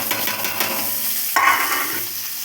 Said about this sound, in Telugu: ఆనియన్స్ వేసేసుకొని పచ్చిమిర్చి కూడా వేసేద్దాం.